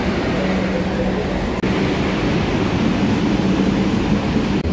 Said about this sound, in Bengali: আমার ট্রেন ছেড়ে দিল কিন্তু একদম 1:36 দমদম ছেড়ে